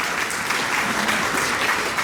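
Audience applause at a town hall in Jonesborough, Tennessee, steady dense clapping from a crowd sustained evenly throughout.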